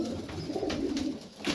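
A Serbian highflyer pigeon, a pearl-eyed pied saddleback, coos softly in a loft, a short low murmuring call heard close by and alone.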